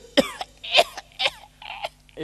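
An older performer of Vietnamese cải lương opera coughs and clears the throat in several rough bursts, close and fairly loud, with short pauses between them.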